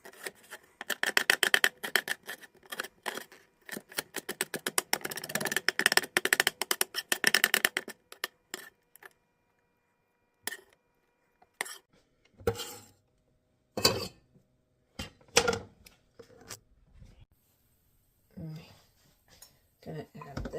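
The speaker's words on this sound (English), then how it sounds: "I'm just gonna cut up the other half of this at least" Knife chopping food for a lamb noodle soup on a cutting board: a fast rapid run of close, crisp chops, then scattered single cuts and clatters with pauses between.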